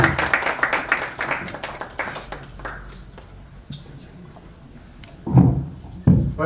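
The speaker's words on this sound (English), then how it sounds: "let's give a good round of applause to Ndindi" Audience applause for Ndindi Nyoro after his talk at an IPF meeting, a burst of dense clapping that thins out into a few scattered claps before some louder knocks near the end.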